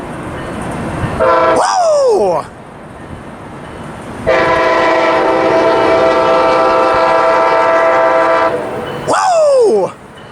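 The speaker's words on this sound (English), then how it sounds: "I believe this is 572 coming our way." Passenger train 572 arriving in San Diego sounds its horn loudly and close by: a short blast, then one long sustained blast, then another short blast at the end, with train rumble underneath and a brief exclamation.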